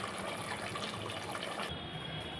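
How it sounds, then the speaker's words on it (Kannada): Water poured into a pan of village-style chicken masala to make gravy, a steady broadband gush that runs close and continuous, ending abruptly near the end with a hiss trailing off. "ಈಗ ನಾವು ಇದಕ್ಕೆ ಸ್ವಲ್ಪ ನೀರು ಹಾಕೋತೀನಿ ರೀ."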